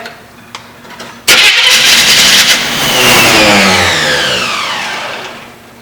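A 1973 Chevy Camaro engine cranking and firing abruptly, then revving loudly up and down close by before settling, with no talk over it.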